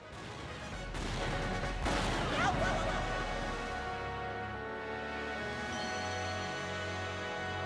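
A rocket launches in the video game Paper Mario: The Thousand-Year Door, with a deep booming roar and crashing blasts, then settles into a sustained rumbling thrust, loud and close.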